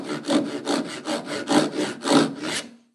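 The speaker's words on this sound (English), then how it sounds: "Now I've got a good saw kerf started." A hand saw cuts a kerf across the end grain of wood in close, loud, rhythmic strokes, roughly nine or ten pushes and pulls before the cutting stops.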